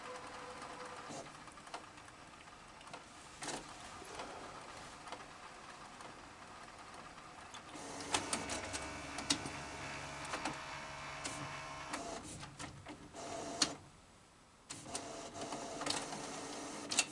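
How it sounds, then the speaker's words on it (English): A Canon printer makes a colour copy, whirring and clicking as paper feeds, with louder mechanical grinding and rhythmic carriage passes building midway, alone without talk. "And this is a Canon printer."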